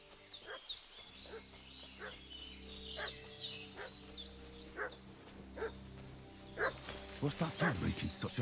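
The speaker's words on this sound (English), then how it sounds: "What's that dog making such a fuss about?" A dog barks repeatedly in the middle distance in Kingdom Come: Deliverance 2, short sharp yaps spaced irregularly over a steady outdoor ambience of insects and low background drone.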